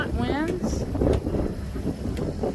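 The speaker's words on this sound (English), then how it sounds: "A little bit windy out here." Wind rumbles and buffets steadily across an open space on the water around a boat in about 6.5-knot winds, with a voice speaking briefly over the blustery noise.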